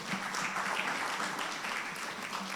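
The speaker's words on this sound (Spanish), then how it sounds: "Démosle un aplauso al Señor." Church congregation applauding during a Spanish-language service, a steady, moderately loud wash of clapping that fills the clip alone without talk.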